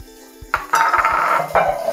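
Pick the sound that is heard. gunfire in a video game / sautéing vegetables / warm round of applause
sautéing vegetables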